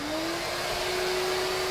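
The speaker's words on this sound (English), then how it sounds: "He's a full-fledged extracting machine of commercial quality." A Numatic George wet-dry vacuum extractor runs steadily with a loud whooshing roar and a high motor whine, constant from start to finish.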